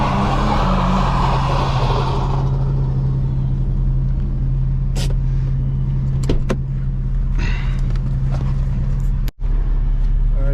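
Street drift car engine rumbling loud and close at first, then easing into a lower, steadier drone with a few sharp clicks and knocks scattered over it.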